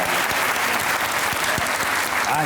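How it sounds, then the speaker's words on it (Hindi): Studio audience applause on a comedy talk show, steady brisk clapping filling the whole short stretch at a constant level, with faint voices mixed in. "तालियां बजाएं यार, बैठने के ऊपर तालियां बजाएं"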